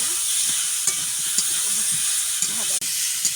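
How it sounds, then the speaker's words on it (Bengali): Potatoes sautéing over cumin, ginger paste, chilli paste and turmeric in a pan give a steady, close sizzle, with a few faint stirring scrapes and no talk. "মশলার উপরে এই আলুগুলো দিয়ে একটু কষে নেব।"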